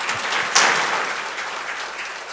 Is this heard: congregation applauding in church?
yes